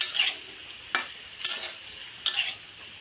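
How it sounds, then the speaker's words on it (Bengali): Food fries in a hot wok and is stirred by hand; three sharp spatula scrapes cut through a steady, close sizzle. "গরম করা তো একটু ভালো করে নেড়ে নাহলে কড়াটা তোলাতে ধরে যাবে"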